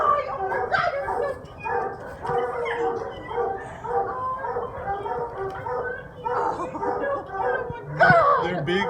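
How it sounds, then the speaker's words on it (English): Beagles at an animal shelter bark, yip and whimper in overlapping bursts, close by, with a sharp bark near the end, while people talk over them. "They're beagles."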